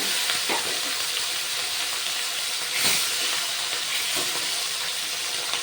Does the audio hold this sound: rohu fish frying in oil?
yes